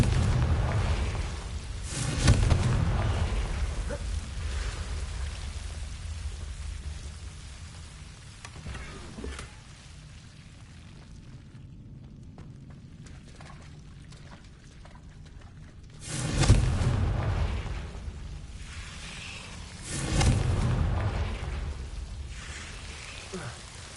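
Confringo blasting spell explosions in the video game Hogwarts Legacy, several heavy booming bursts spaced apart with rumbling tails, separated by quieter stretches of ambient background.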